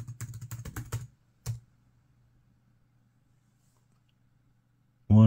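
Quick bursts of keystrokes on a computer keyboard while a password is entered, then a single key press, a long quiet pause and a sudden loud sound at the end.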